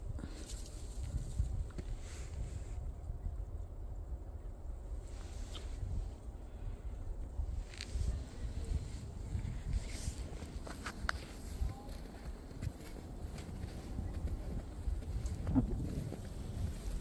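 Outdoor wind during a first snowfall gusts unevenly against the microphone as a low, rumbling buffet, with faint footsteps and scattered rustles in the background.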